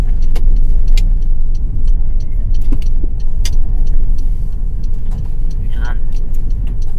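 A car rolls along a snowy night road in Nuuk, Greenland, giving a steady loud cabin rumble of engine and tires with a few faint clicks and rattles, and a voice talks briefly over it.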